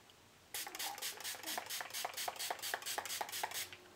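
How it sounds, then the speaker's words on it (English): Badescu setting spray misted onto a face from an e.l.f. bottle, a quick series of about a dozen short, close pump-spray bursts in an uneven rhythm, faint and with no talking. "I'm going to use the Badescu setting spray."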